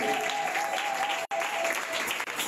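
A church congregation at a praise and worship service claps together in a dense, steady burst of applause, broken by a brief gap partway through before the clapping resumes.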